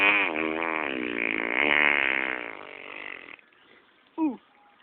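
A long, loud, buzzing fart with a wavering pitch carries on for about three seconds, then a brief higher squeak follows after a pause.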